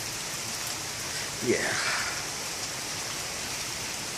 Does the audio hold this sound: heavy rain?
yes